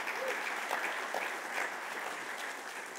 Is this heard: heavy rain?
no